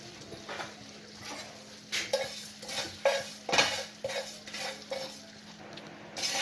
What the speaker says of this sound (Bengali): তো শুকনো খোলায় এটা ভেজে নিচ্ছি আমি